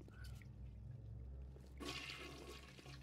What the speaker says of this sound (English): Those are some very efficient rapture toilets.